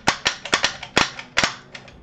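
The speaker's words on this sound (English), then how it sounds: "They make really, really intimidating gun noises." Gunshots in League of Legends, a rapid series of about ten sharp, close cracks in an uneven rhythm, loud and alone.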